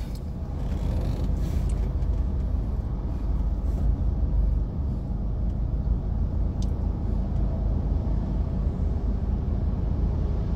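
Road traffic rumbles steadily from inside a car, a constant low engine and road drone with no breaks and no talk.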